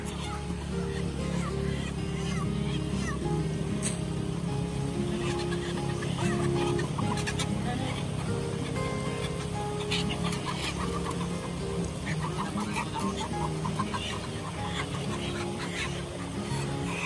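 Chickens cluck and squawk repeatedly amid a busy background, with people talking nearby throughout.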